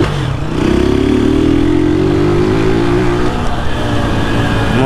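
A motorcycle with a tin exhaust pipe roars loud and close, its engine note rising steadily as it accelerates through the gears, harsh and buzzing throughout, with no speech.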